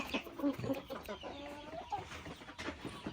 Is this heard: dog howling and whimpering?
no